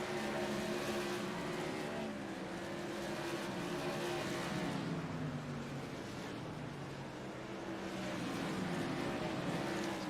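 Modified race cars of the TSS Killin' Time Tour lapping the track at Lanier, engines roaring at a distance and swelling steadily as the field passes, with no talk.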